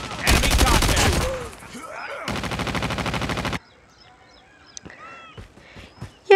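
Gunfire in the mobile shooter Call of Duty: Legends, with dense automatic bursts up front and a sustained rattling volley, followed by quieter game effects and scattered sounds.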